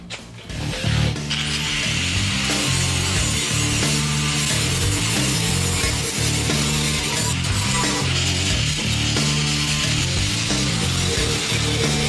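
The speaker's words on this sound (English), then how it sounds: "go real quick and dress up the edges with a lighter grit on the wheel" Angle grinder fitted with a lighter-grit wheel dressing the edges of a custom metal tank, a steady, loud high-pitched grinding whine with rhythmic pulsing as the wheel works along the edge, alone without speech.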